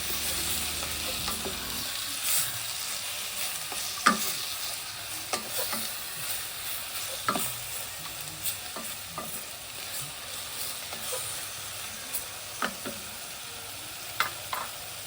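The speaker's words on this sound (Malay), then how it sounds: "Tumis dulu sekejap" Meat sizzles and fries steadily in a pot, with occasional scraping stirs and small pops, close and continuous.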